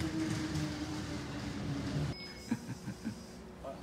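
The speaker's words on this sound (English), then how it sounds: "we often ride the subway to get around Busan" A Busan subway train in motion, a steady low rumble and rail noise with a faint whine, then a quieter car with soft clicks and knocks after about two seconds; no speech.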